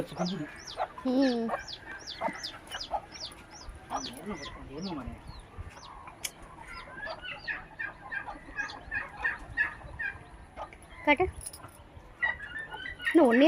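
Chickens clucking and chirping nearby, a busy mix of short calls and chick peeps, with people talking faintly in the background.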